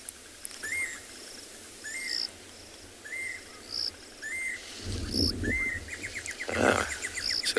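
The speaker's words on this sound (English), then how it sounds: "You can hear a Jacobin cuckoo." A Jacobin cuckoo calls repeatedly with short, rising whistled notes at a steady pace, over an insect drone at a dam on a sunset safari, with some rustling and a closer chirp near the end.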